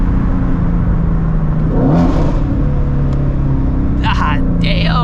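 A 2016 Shelby GT350 with a T56 manual gearbox rises into a loud engine rev during a downshift, its steady drone filling the cabin while someone talks and exclaims over it.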